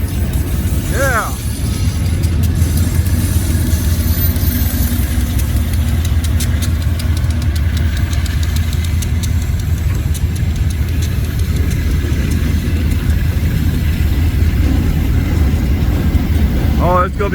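A GE B36-7 diesel locomotive hauling a 34-car loaded rock train works hard with a steady, loud, throbbing engine drone that runs throughout, with people talking over it.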